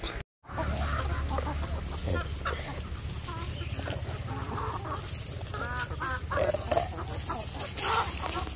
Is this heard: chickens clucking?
yes